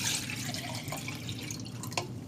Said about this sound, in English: I'm going to pour the water into the kettle